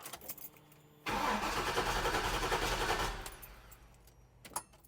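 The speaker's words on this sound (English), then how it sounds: "Battery cranks over well." A classic car engine cranks briefly and then catches, settling into a loud, rough idle for about two seconds before fading back to quiet, with small clicks after.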